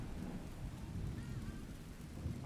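Rain and rumbling thunder in a video game, a steady dense wash of rainfall under a low continuous rolling rumble, moderately quiet and without speech.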